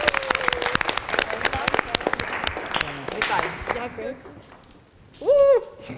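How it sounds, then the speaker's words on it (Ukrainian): An audience at a school quiz game final breaks into scattered, crisp handclaps that thin out and fade over a few seconds, followed by a short high warbling chirp near the end. "Оплески."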